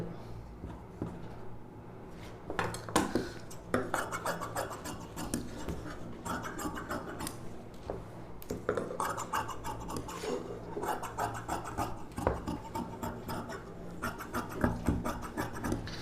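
Scissors cut a blouse front piece from fabric, producing a continuous close rasping and scratching of blades through cloth with short pauses and bursts.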